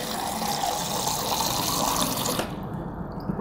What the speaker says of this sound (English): But if I pour in water